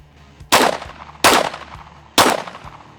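Three sharp pistol shots ring out about a second apart at a target, each with a short reverberant tail.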